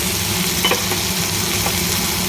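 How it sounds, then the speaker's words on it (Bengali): Red amaranth greens sizzle steadily in a pan as they are stirred, with a constant frying hiss and a few soft scraping strokes. "লাল শাকটা দিয়ে একটু নাড়াচাড়া করে নেব।"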